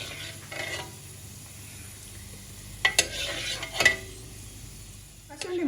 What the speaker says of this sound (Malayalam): കശുവണ്ടി മുന്തിരി നമ്മൾ വറുത്തെടുത്ത് മാറ്റി.